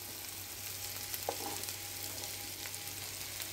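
Chopped garlic fries in a little soybean oil in a pan, giving a steady, soft sizzle with a faint clink partway through and no talking.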